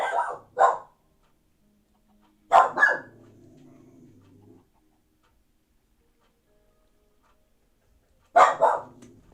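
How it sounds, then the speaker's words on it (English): A small dog barks at turkeys in short, sharp bursts of two or three, with quiet pauses between them and a low trailing growl after the middle volley. "Little dude's barking at the turkeys."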